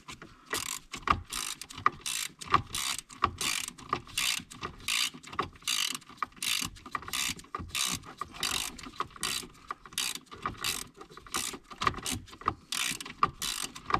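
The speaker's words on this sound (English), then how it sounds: "Now I'm going to torque it all. Can't get my finger on it. Ratchet." A ratchet torques bolts on the relay panel of a 2005 B5 VW Passat, giving a steady run of quick, close clicking strokes repeated rhythmically with brief gaps, no voices over it.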